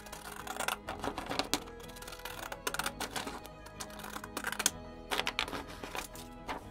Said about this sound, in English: it would be, you know, pretty simple to just cut this out with these scissors.